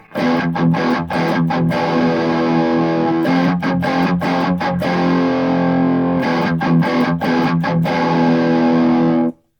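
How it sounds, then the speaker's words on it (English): Electric guitar through an MXR Classic Distortion pedal with a tight distortion plays chugging chord riffs in three repeated phrases, loud and close with sharp palm-muted stops. "the Classic Distortion has a nice tight feel to it"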